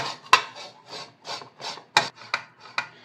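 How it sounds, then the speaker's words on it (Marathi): Two boiled potatoes are grated finely on a grater over a bowl, a series of close rhythmic rasping strokes, roughly a dozen in three seconds, with sharper scrapes at a few points and no talking. "आपण ना एका बाउलमध्ये 2 उकडलेले बटाटे घेतलेले आहेत, ते आता आपण आहे ना बारीक किसून घेऊया।"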